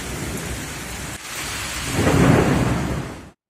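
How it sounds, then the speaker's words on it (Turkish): Thunderstorm with hail over a city in Sivas, Turkey: a dense, continuous hiss of falling hail and rain with a low rolling rumble of thunder swelling near the end, loud and close, no voices. "Sivas'ta gök gürültüsüyle birlikte yağan dolu kısa sürede şehri beyaza bürüdü."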